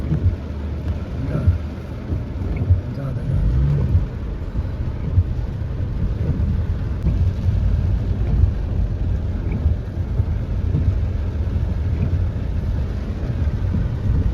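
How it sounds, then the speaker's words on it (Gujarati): A heavy downpour falls over the town of Dhansura in Gujarat, making a loud, steady, unbroken hiss of rain that continues for the whole stretch. "કાંઈ જોઈ શકો છો વરસાદ ચાલુ થઈ ગયો છે પડવાનો ભાઈ."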